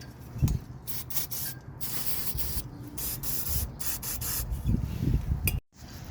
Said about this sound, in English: And then hit it with a little brake spray.